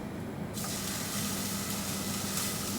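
Pork chops hit a smoking-hot pan and break into a steady, loud sizzle and hiss that holds close and continuous after a brief quieter start.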